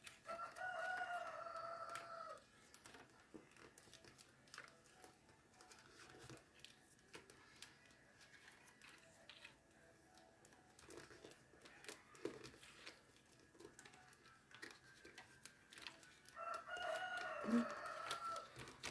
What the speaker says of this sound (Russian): курочки мои.